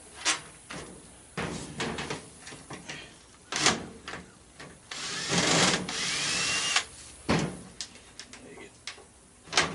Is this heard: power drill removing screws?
yes